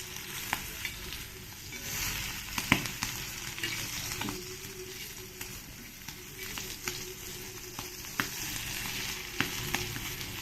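Squid fries in a pan over a low gas flame, a steady soft sizzle with occasional crackles and pops, close and fairly quiet, with no speech.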